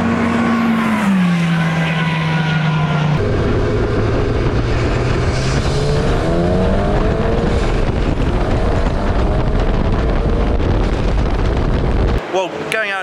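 KTM X-Bow track car at speed on the Silverstone circuit, loud engine note rising and falling through gear changes with heavy wind rush, ending in a brief burst of buffeting.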